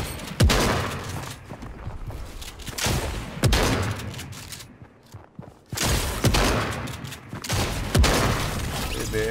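Sustained bursts of rapid gunfire and explosions in the video game Fortnite roar through, pausing briefly before resuming with heavy, crackling volleys.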